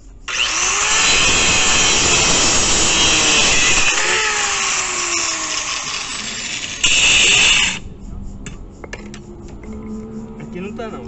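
A saw cuts through bamboo for a clothesline pole in a long, loud, continuous rasp up close, with a short burst of harder cutting before it stops and quieter handling sounds follow.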